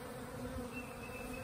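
Backyard honey bees buzz continuously around a hive in a close, dense hum, many insects droning together with no voices.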